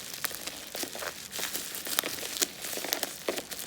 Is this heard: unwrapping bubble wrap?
yes